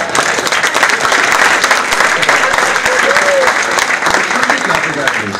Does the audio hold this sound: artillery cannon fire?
no